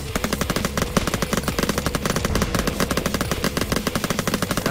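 Rapid automatic gunfire from the Ultimate Zombie Defense game rattles on without pause, a dense, loud burst of shots cutting down zombies, with no talk over it.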